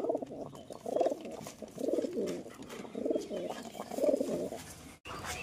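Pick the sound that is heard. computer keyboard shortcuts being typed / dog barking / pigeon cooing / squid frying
pigeon cooing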